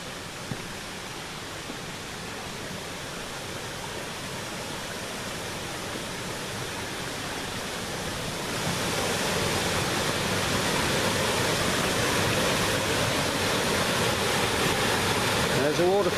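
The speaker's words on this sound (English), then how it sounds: "There's a waterfall going down." Kisdon Force waterfall on the River Swale near Muker roars as a steady, dense rush of water, swelling noticeably louder about halfway through and holding there.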